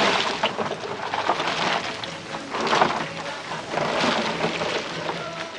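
Heavy rain pouring down steadily in Chile, a dense wash of drops with swelling gusts, loud and continuous with no voices.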